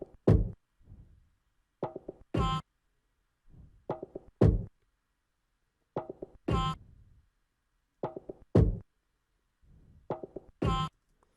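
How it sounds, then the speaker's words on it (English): Percussion loop from an FL Studio remake of a song: hollow plopping and knocking hits in a repeating syncopated pattern with sharp bright clicks, played alone and moderately loud. "next up we have some percussion sounds that we use to accompany the drum"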